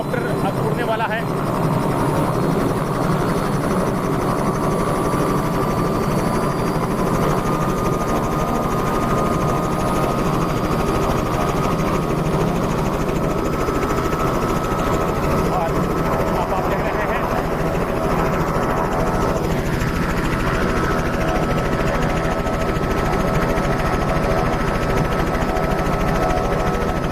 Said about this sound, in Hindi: और हेलीकॉप्टर अब उड़ने वाला है।